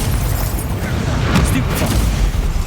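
Magical spell impacts from the Hogwarts Legacy video game: dense, continuous booming bursts with low rumble, loud and layered over game action without a clear break.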